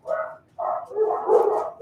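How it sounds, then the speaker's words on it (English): Several dogs bark and yelp in quick overlapping bursts, close and fairly loud, with a short pause after the first outburst before a longer run of barking. "And the dogs just start going nuts."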